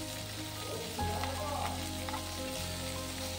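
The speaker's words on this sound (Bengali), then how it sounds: "পনিরের টুকরোগুলো ওই রিফাইন্ড অয়েলের মধ্যে দিয়ে দিলাম।" Paneer pieces dropped into hot refined oil, a soft, continuous sizzle with a couple of brief bursts of crackling and a low background hum, close and fairly quiet.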